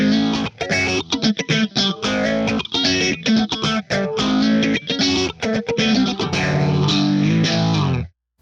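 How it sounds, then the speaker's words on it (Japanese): Electric guitar played through a Strymon Zelzah phaser pedal, placed in stereo after the amp via a reactive load, giving a sweeping, swirling tone across a steady run of loud chords and notes that ends abruptly. "アンプの後ろにステレオでかけるとフェイザーがバキッと綺麗にかかりますね。"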